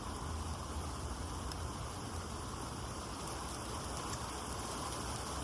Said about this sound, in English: there's definitely like thunder and stuff, and the rain is picking up